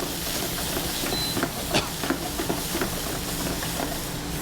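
Roasted garlic sautéing in a shaken pan, a steady close hiss of frying with faint scrapes and small bursts as the pan moves.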